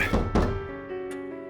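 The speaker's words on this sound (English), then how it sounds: "Loud knock sounds at the door." A loud knock at a door in the video game Death Mark sounds as two heavy, close thunks in quick succession, then a low lingering tone and a faint tap.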